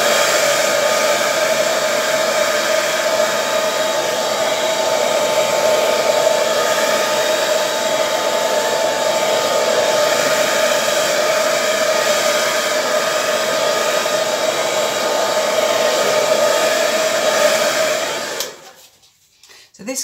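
A hair dryer blows acrylic paint across a 30 cm round canvas for a bloom pour, roaring loud and close in one continuous whir before cutting off near the end.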